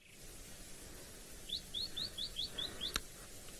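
White-browed scrub robin calling outdoors: a run of about seven short, clear, rising whistled notes in quick even succession, fairly faint over a low background hiss, followed by a sharp click.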